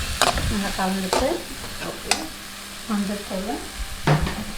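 A spoon stirs brinjal, potato and tomato frying in a pan for curry, giving repeated scraping strokes with sharp clicks over a soft, steady sizzle, close and moderately loud.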